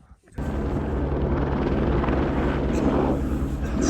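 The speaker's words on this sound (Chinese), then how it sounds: "七峰公司的直升飞机 带着客人在 C 营地进行游览" A helicopter ferrying climbers near camp on Everest roars in suddenly after a brief quiet moment, then holds a steady, loud, close rotor and engine drone with wind noise.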